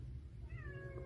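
A single soft, drawn-out cat meow rises over a low background hum.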